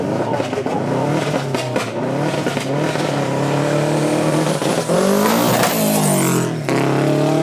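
A supercar at a Beaulieu supercar weekend accelerates hard up a hill from a platform, engine roaring and rising in pitch with sharp gunfire-like exhaust pops and bangs, loud and close throughout.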